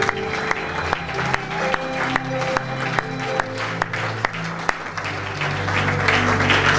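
A church congregation at a worship service applauds to acclaim God, loud rhythmic clapping in unison with sharp beats, a swelling crowd and sustained tones underneath.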